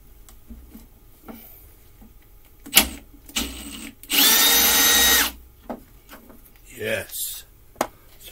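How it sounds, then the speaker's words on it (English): Impact driver rattling bolts loose from a push mower deck, with one long, loud, steady burst in the middle and a few shorter bursts before and after, up close. "I think I'm going to use my impact to get these off."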